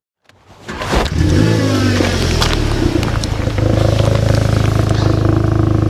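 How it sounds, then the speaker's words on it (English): Exhaust of a VW Golf GTI TCR (Mk7.5) starting up and settling into a loud, deep burbling idle close by, rumbling steadily with crackly low pulses. "it's got a very nice exhaust burble. Hopefully you can hear that right now"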